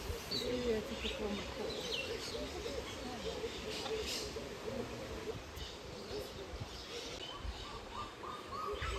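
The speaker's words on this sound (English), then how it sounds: "Blue and gold macaw." A blue and gold macaw at a bird sanctuary gives repeated mid-pitched calls from a short distance, heard against outdoor background noise with people talking nearby.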